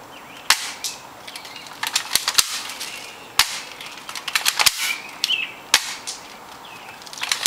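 A Stinger R34 toy blaster fires a string of sharp, snappy cracks at irregular intervals, close and crisp against a quiet background.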